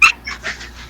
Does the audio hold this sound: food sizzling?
no